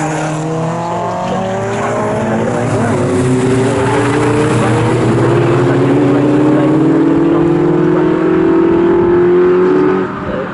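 Sports racing cars at Snetterton circuit roar past in a loud, sustained wash of engine noise, their pitches rising and overlapping as several cars accelerate by close at hand.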